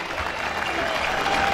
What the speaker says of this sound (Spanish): hagan ruido, aplauso, aplauso